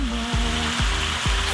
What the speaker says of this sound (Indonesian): Pertama kita goreng beberapa potongan ayam penyet selama kurang lebih 10 menit dalam minyak panas.